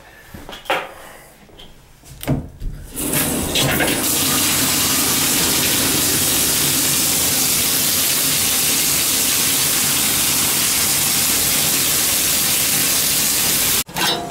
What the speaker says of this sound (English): I got that tub running upstairs